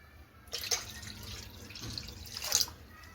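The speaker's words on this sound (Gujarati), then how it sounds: "હવે તેમાં આપણે 2 ગ્લાસ જેટલું પાણી એડ કરી દઈશું।" Water poured into a pot of boiled dal for dal dhokli, a close, splashy pour in two bursts with a quieter trickle between them, no talking.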